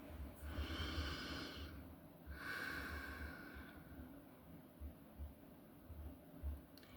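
Slow, deep breathing during a guided meditation: two long, soft breaths drawn in quick succession, followed by a faint, quiet stretch of low hum.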